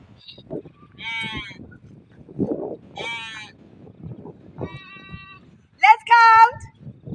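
Sheep bleat several times in a kraal at a family homestead, clear, fairly close calls spaced across the moment, the last one loudest, over a faint background of low murmur.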